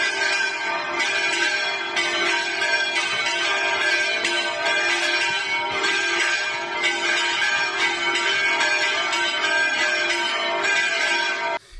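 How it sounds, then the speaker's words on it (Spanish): Church bells peal from a village tower in a steady, loud, continuous ringing, overlapping strokes layered with rich lingering overtones, with no voices. "ese repicar de las campanas"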